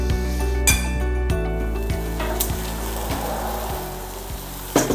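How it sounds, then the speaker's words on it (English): Chicken gets stirred around in a hot pan, with a steady sizzle, soft scraping and a few clinks of a utensil against the pan. The sounds are close and moderately quiet, and there is no speech. "Stir it around."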